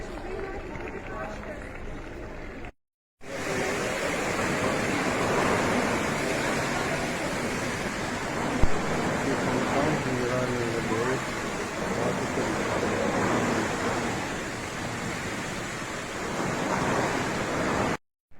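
Mineral water fountains run steadily in the spa town centre of Karlovy Vary, a continuous loud splashing gush with wind buffeting the microphone and a short break near the start.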